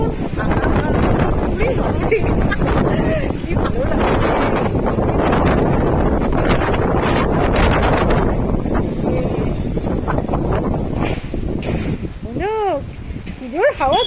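Strong gusting wind buffets the microphone with loud, continuous roaring rumble, while people talk intermittently underneath and some whistling tones rise near the end.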